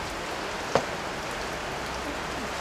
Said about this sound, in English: let me show you in what weather conditions I work. It's raining cats and dogs.